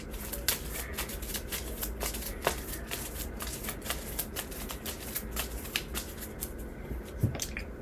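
A Marvel Champions encounter deck of cards is shuffled by hand with a rapid series of crisp, clicking card riffles, close up and steady, with no talking.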